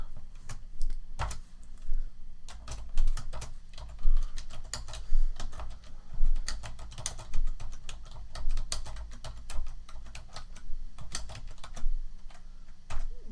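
Fast, steady typing of C# code on a computer keyboard, with dense close key clicks in uneven bursts and no talking.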